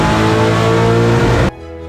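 A car engine roars loudly at an end-of-year drift event, a sustained dense revving that cuts off abruptly, leaving a quieter low hum behind.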